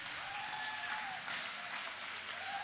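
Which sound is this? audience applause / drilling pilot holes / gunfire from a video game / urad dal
audience applause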